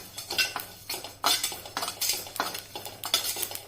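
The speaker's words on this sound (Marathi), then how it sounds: "आता आपण ह्याच्यात तीळ भाजून घेऊया" Sesame seeds dry-roasting in a pan, stirred with a metal spoon that scrapes and clinks against the pan in quick repeated strokes, close and fairly quiet, with no talk.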